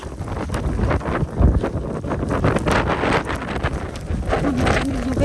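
Strong wind gusting through a winter snowstorm in Edmonton, a loud, continuous buffeting roar with rushing bursts battering the microphone.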